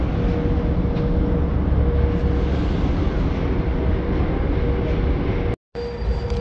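Steady, loud rumble inside a moving metro train in Russia, a continuous roar with a faint hum, interrupted briefly by a cut near the end before the rumble resumes.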